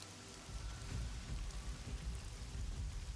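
Steady rain ambience, a soft, dense patter with low rumbling underneath, even and continuous throughout.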